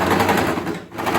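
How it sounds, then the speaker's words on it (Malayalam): A sewing machine running a long stitch along fabric strips for a kaftan dress, a steady close rapid whir that dips briefly, then picks back up. "ഈ 2 പീസ് എടുത്തിട്ട് നമ്മൾ നീളത്തിലൊരു സ്റ്റിച്ച് കൊടുക്കുക."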